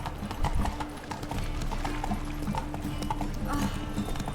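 Hooves of the horse Roach clip-clopping in The Witcher 3, a steady rhythmic trot close by over a low ambient game bed, no voices.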